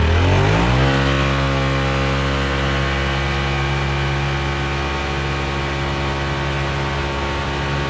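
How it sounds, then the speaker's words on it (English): A stock-motor vehicle on 32-inch stock tires launching in a 0 to 60 run, the engine note climbing quickly in the first second then holding a loud, sustained, rising drone, close and steady with no talk. "We're gonna do a little speed run here, 0 to 60, and see what she gets"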